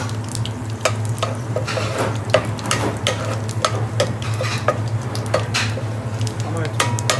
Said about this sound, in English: Now I'm adding the garam masala, which I've described earlier. As you can see, it's popping.